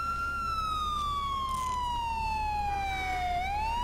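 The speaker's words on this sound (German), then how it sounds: "Ach, jetzt habe ich den Sirene angelassen, habe ich jetzt vergessen." A police car siren in the video game Grand Theft Auto IV wails steadily in a long, falling tone, then sweeps back upward near the end, loud and continuous with no voices.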